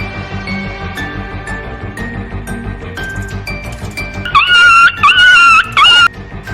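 A puppy gives several high, whining whimpers near the end, loud and close, after a stretch of quieter mixed background sound with a faint dog noise.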